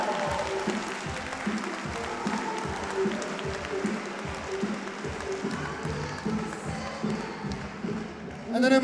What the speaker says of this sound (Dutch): mag ik een heel groot applaus voor Henk Jager